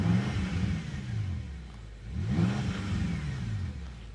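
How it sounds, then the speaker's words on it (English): A 2012 BMW M5 4.4 V8 with keyless start running nearby, a steady engine drone with a quick rev that rises and falls near the middle before it settles again, fairly quiet inside the car. "That's the BMW key there, foot on the brake and start"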